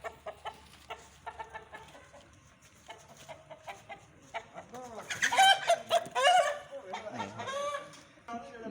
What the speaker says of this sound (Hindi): अब मुर्गा बहुत ज़्यादा अपसेट हुआ है